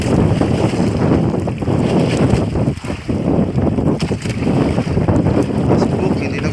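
Strong wind at sea buffets a small fishing boat, a loud, continuous roar with gusty rumbling against the microphone and water noise, while a voice is heard.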